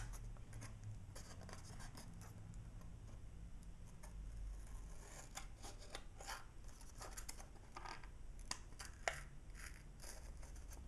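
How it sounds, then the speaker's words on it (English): Paper being cut around the edge of a gift box, heard as a faint, close series of irregular snipping and scraping ticks over a quiet background hum, with no talk. "So we're just cutting through our papers."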